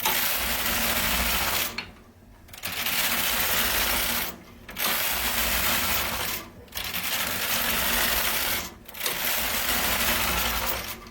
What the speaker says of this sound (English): we're knitting a cuff, and it holds it onto